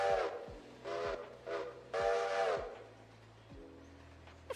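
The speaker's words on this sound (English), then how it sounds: "Shift H is loud whistle" A steam locomotive whistle in a railroad video game sounds in several loud, breathy blasts of uneven length, the last one long and sustained. A low rumbling engine hum with sliding pitch runs underneath.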